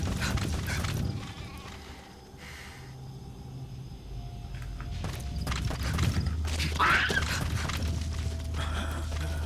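Goat bleating in Metal Gear Solid V: The Phantom Pain, a short bleat cutting through game ambience and hoof-like clatter over a steady low hum, moderately loud and close.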